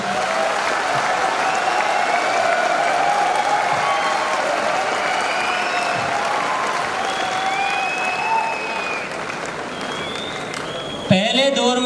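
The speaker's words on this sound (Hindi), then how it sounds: "आप इसके लिए जी भर के तालियां बजा सकते हैं, हो हल्ला कर सकते हैं" Large crowd at an anniversary event in Indira Gandhi Stadium, Delhi, applauding and cheering continuously, a loud, dense roar of clapping and shouts with whistles rising above it, ending in an abrupt burst near the close.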